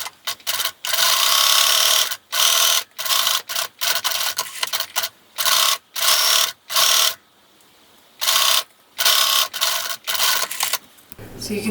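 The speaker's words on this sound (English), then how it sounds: "I'm going to sew these 3 together and I'm going to sew these 3 together" A sewing machine stitches fabric pumpkin pieces together in repeated bursts of fast, whirring needle chatter separated by short pauses, close and loud, with no voices over it.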